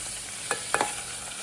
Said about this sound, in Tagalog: Ngayon, prito ko na isda.